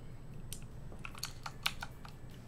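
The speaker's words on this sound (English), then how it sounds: "I am pressing tab, but pressed it three times." Several sharp, separate clicks of a key pressed on a computer keyboard while playing a PC horror game, irregularly spaced, close and fairly quiet against a low background hum.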